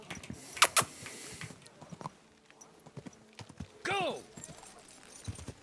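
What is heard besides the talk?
horse galloping hooves in the video game Kingdom Come: Deliverance 2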